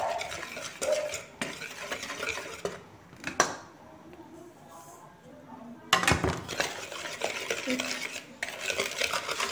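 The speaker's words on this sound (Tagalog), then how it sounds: "Let's mix the rice flour." Rice flour and cornstarch being mixed for kutsinta: soft scraping and light clinks of a utensil against a bowl, coming in uneven bursts with a quieter pause partway through.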